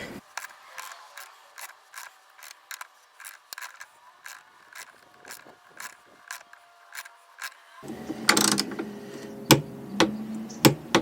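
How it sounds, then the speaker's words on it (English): A torque wrench sets a riv nut during a motorized step install on a Sprinter camper van, making a run of crisp ratcheting clicks at a steady pace, then louder clunks and scraping near the end. "So I'll go ahead and use a torque wrench."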